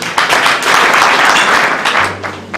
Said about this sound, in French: Ben, on peut applaudir.